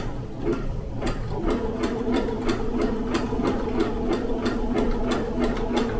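A sewing machine stitching fabric with elastic runs loud and steady with a rapid regular needle clatter, keeping an even fast rhythm throughout.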